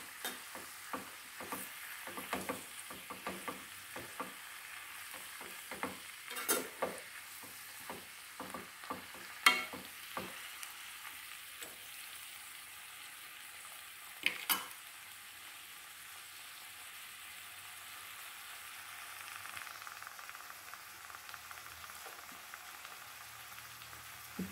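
Mint, red chilies and tomatoes fry in a pan as a chutney is stirred, giving a soft steady sizzle with frequent scraping and tapping strokes early on that thin out into a quieter, even hiss.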